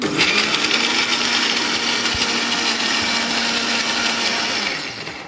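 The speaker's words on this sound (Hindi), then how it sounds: "तो ये पल्स मोड पे भी थोड़ा थोड़ा लेने से क्या होता है कि सब एक साथ चर्न हो जाता है।" A blender motor whirs in one continuous, loud, close grinding run that holds steady and eases off at the end.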